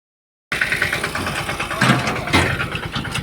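A tractor engine starts up after a brief silence and idles at a farm during cotton work, a steady mid-pitched chugging with a couple of louder revving bursts, close by.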